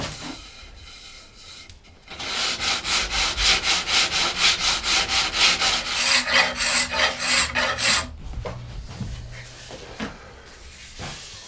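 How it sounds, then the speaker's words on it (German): A wooden recurve bow is sanded and scraped by hand, a steady run of rhythmic rasping strokes, close and loud, repeating for several seconds before slowing to quieter scraping. "schleift und schabt an den Stellen, die sich noch nicht richtig biegen lassen."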